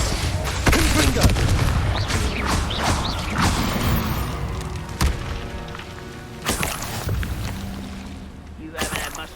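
Fiery spell explosions from Confringo casts in the game Hogwarts Legacy, with Levioso and other spellcasting nearby, give repeated loud booms and thuds over dense combat noise and a talking voice.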